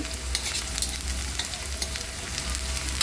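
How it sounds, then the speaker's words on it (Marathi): Onions and green chillies roasting on a tawa for a gram-leaf and lentil bhaji, a continuous close sizzle broken by frequent scraping strokes of a spatula stirring the pan. "कांदा भाजताना आपण यामध्ये मिरच्या पण टाकायच्या आपला कांदा भाजत येतो"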